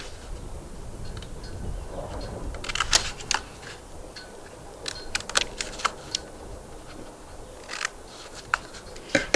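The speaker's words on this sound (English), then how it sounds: "You're going to take your scissors and carefully cut right up" Scissors snip through a cardboard tube in short, sharp clicks, scattered irregularly with a few quick bursts and pauses, close by and with no speech.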